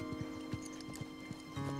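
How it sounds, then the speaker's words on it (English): Horse hooves clip-clopping at a stable yard as the horses come to a halt, soft irregular thuds at moderate distance over a faint hum. "Halt, Starlight. Halt, Hugo."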